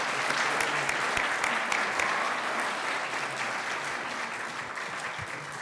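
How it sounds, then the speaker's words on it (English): Dense applause from an audience at a board meeting for an award winner, a thick, even wash of many hands clapping at once, loud and steady before easing slightly toward the end. "Let's give another round of applause,"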